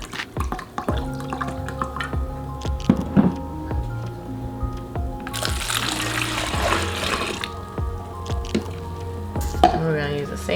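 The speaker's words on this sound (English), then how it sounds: "First ingredient is the wine, and we're gonna do about a half a quart," Red wine is poured into a pitcher for sangria, a burst of splashing liquid in the middle, with clinks and light handling noises around it over quiet background music.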